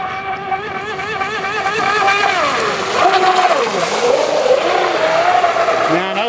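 Small motorboat running on water, its engine droning steadily with a harmonic whine that rises and falls as the throttle changes, fairly close and loud, with some voices underneath.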